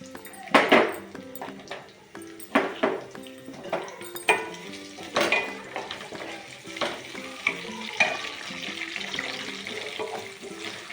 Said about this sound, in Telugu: ఆయిల్ కాగింది ఒక పది స్పూన్లు ఆయిల్ వేసుకున్నాము పోపు వేసుకున్నాం